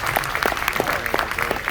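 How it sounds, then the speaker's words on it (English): Audience at a live show aboard a cruise ship clapping steadily throughout, a dense patter of many hands at moderate loudness with no talk over it. "Sometimes I do this, give a clap."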